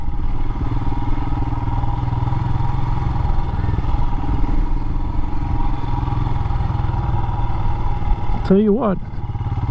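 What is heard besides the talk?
Royal Enfield Himalayan motorcycle riding tight circles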